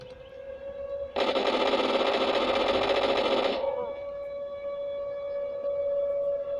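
In the video game Garry's Mod, a siren holds a steady droning tone throughout, while a loud, harsh burst of noise blares over it for a couple of seconds before fading.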